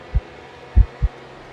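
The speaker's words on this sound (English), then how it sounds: "I heard it, directly at my back, a single heavy heartbeat that was not mine," Deep, heavy heartbeat thuds sound close and loud in a quiet room: one soft beat, then a stronger doubled beat, with nothing else around them.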